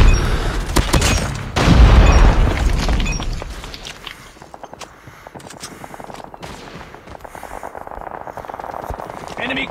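A grenade blast in Call of Duty Mobile lands as a loud booming burst early on, followed by scattered gunshots and footsteps in a busy match, with game voice lines mixed in.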